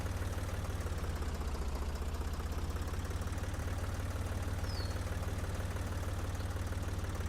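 Tractor engine in the Professional Farmer 2014 video game hauling a heavy plow, a steady low droning rumble with a fast even pulse, constant level throughout, no voices.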